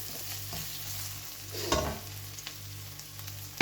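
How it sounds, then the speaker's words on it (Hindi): Garlic and ginger paste sizzles with onions in a pan, a steady frying hiss under a low stove hum, with a few sharper stirring scrapes along the way and a louder one at the end. "थोड़ा सा इसको अब फ्राई करेंगे प्याज के साथ"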